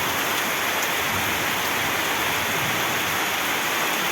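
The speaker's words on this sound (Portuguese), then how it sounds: "Hoje caiu uma chuva boa pra cá, meus amigos" Steady rain pours down in a constant, dense hiss that continues without any break, unaccompanied by voices.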